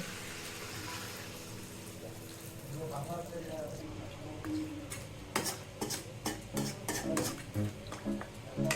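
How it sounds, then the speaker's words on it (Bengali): Water poured into a pan of Bengali crab curry with drumsticks, a broad hissing and sizzling wash with stirring and pot clatter over steady pan noise, and a voice talking at the start. "আমি পরিমাণ মতো জল দিয়ে দিচ্ছি"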